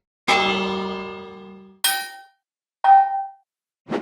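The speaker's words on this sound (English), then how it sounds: "I've used the sound of a village bell being hit." Four separate metallic strikes of a Minecraft village bell, each ringing briefly then fading, the first one sustaining longest, with silence between hits.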